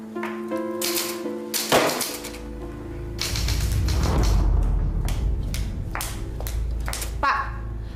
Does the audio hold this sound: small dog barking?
no